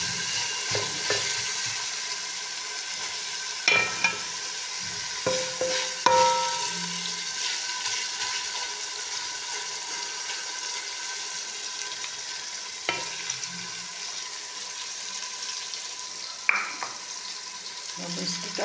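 Tomatoes, green chilies, garlic, ginger and dried coriander paste fry in a pan, with a steady close sizzle throughout and occasional scraping and clinking as the mixture is stirred.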